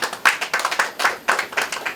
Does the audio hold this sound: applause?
yes